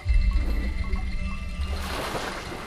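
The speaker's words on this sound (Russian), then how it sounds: "я слышал там... Звук воды" Flowing water trickles and gurgles in the game Kena: Bridge of Spirits, a moderate, continuous stream that swells into a brighter rush partway through over a low ambient rumble.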